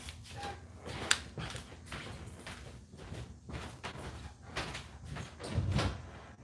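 Indoor door opened to let someone in, several thuds, clicks and a handle rattle spread over a few seconds, close and moderately loud with no talk over it.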